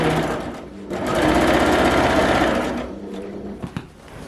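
Sewing machine stitching in the ditch across a quilt, a loud steady whirring run of stitches that builds, holds for about two seconds, then slows and stops with a couple of short bursts at the end.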